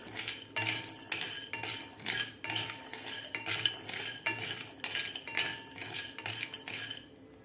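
Edible gum (dink) dry-roasted and stirred in a pan for sunthavada prasad, heard as close, repeated metallic clinks and scrapes of a spoon against the pan in a steady rhythm, with no talking.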